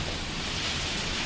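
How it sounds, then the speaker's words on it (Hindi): Heavy rain pours in a storm, steady and dense like a broadband hiss with low rumbling underneath, loud and continuous with no voices. "बहुत गंदा तूफान आया है ये बारिश के साथ"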